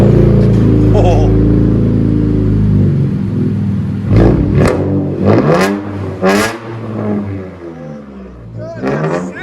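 Infiniti Q60 3.0L twin-turbo V6 with straight pipes revving and spooling, loud deep exhaust rumble swelling in several sharp bursts, heard from inside the car with people talking over it.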